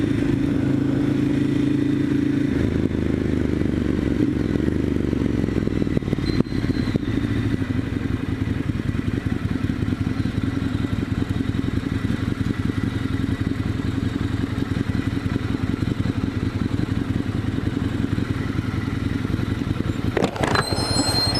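A Ducati Monster 1100 Evo motorcycle ridden through central Singapore, its engine a steady, loud, continuous drone with low rumble and rough mechanical texture throughout, no talking.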